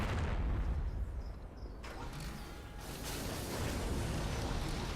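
A StarCraft II siege tank fires on a Thor, heavy booming shots over a constant dense rumble of game battle noise, loud and continuous throughout.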